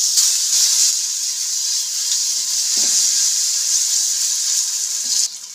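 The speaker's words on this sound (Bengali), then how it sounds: "এখন ওই তেলের মধ্যে দিয়ে দিচ্ছি 5 ফোড়ন" Panch phoron spices sizzling in hot oil left over from frying fish, a steady loud hiss and crackle that runs continuously with a few faint clinks before cutting off near the end.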